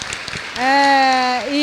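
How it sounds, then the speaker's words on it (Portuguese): An audience applauds at a lecture on authorial creative process, a brief patter of clapping soon overtaken by one voice holding a long, loud cheering cry. "Palmas para ela, por favor."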